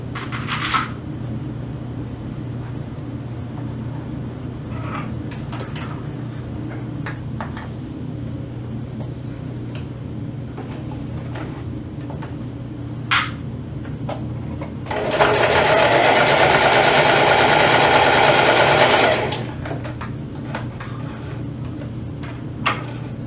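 A home sewing machine bastes down the sides of a fabric pouch in a single loud, steady whirring run lasting a few seconds. Before and after it there is a low background hum, with occasional clicks and fabric handling.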